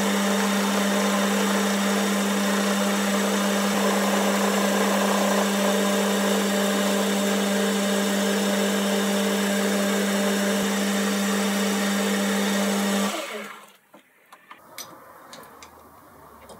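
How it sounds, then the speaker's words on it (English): A milling machine cuts the last side of a steel block, making a loud steady whine and grinding hum for about thirteen seconds before the cut ends abruptly, leaving faint clicks and workshop noise. "put this side face down, and mill the last side"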